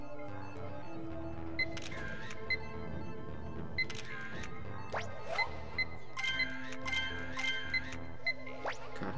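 Camera shutter clicks in Pokemon Snap, a series of sharp, evenly spaced snaps sounding close over steady game music and chirpy effects, with no one talking.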